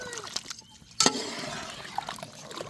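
Water is poured into a half-cooked Madurai-style chicken curry, with a sharp splash followed by soft trickling and gurgling in the pot.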